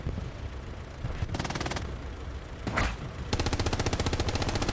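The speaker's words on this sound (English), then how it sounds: "we can hear the Lux making its thumping sounds right below us" In a large-scale video game battle, a Luchs light tank's autocannon thumps in rapid rhythmic bursts. Dense gunfire and explosions fill the background, and a longer, steady volley closes the sequence.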